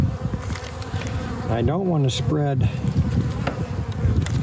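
Honey bees buzz continuously and closely around hive frames, a dense steady drone, with a person speaking briefly over the buzzing partway through.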